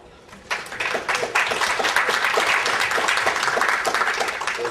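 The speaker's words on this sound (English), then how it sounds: "I'd like to really give them both one more round of applause." An audience gives a loud, sustained round of applause for two speakers at a Pacific Rim park city summit, dense clapping swelling quickly and holding steady without talk.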